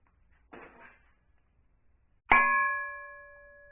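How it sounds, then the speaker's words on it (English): A hammer strikes a circular saw blade once, producing a sharp metallic clang that rings on in a clear sustained tone and slowly fades; a short muffled thunk comes just before it. "I'm going to hit a blade with my hammer."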